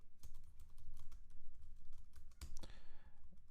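Rapid, quiet typing on a computer keyboard while coding, a steady patter of close keystrokes with a few heavier taps.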